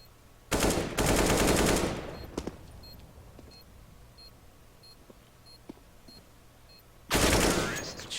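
Bursts of automatic rifle fire in a CS:GO match on the Breeze map: a loud sustained spray near the start, scattered quieter shots and faint beeps in the middle, then another heavy burst at the end.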